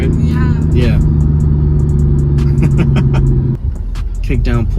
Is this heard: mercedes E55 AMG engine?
yes